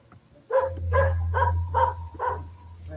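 Puppies yelping in a rapid series of about five high, strained yips over roughly two seconds, close and fairly loud above a low rumbling background.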